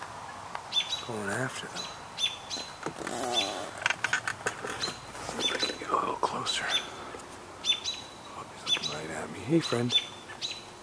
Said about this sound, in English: there are all these little birds around it chirping